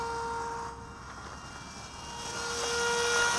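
An RC autogyro, the MIA EZ Gyro 1.25 with a high-mounted electric motor, drones steadily in flight. The whine rises and grows louder toward the end as throttle is applied, with no talk.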